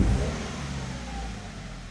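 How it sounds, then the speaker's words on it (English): The boxer engine of a salvage Subaru BRZ, raised on a lift, revs briefly from low RPM, a close, loud engine note that swells at first, then settles into a steady hum with no voices. "I feel like when it's RPMs are down low like this and I rev it"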